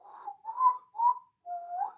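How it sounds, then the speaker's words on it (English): A person whistles a short wavering tune of a few breathy notes, close and fairly soft, with brief pauses between phrases. "I don't get how people can whistle so well."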